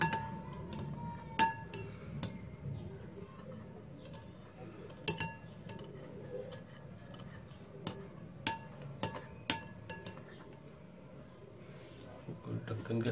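A spoon clinks against a glass container while a homemade hand sanitizer mixture is stirred, giving scattered sharp, bright taps at irregular intervals over a low background hum. Someone talks quietly throughout.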